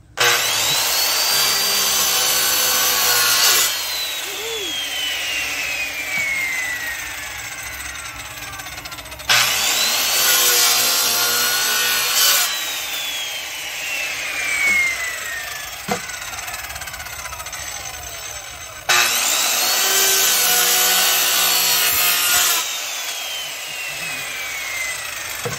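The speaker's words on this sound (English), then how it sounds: "I just so happen to have a saw handy" A handsaw cuts a hole through wood to build a Halloween witch's cauldron decoration. Loud, close back-and-forth rasping strokes come in three long bursts separated by short pauses, with no talking.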